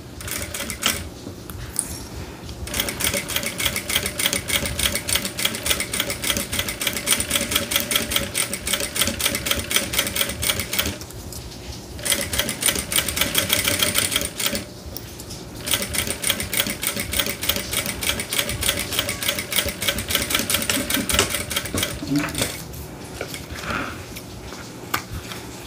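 A sewing machine stitches with pink thread in rapid, steady mechanical bursts broken by short pauses, running close and fairly loud with no talking.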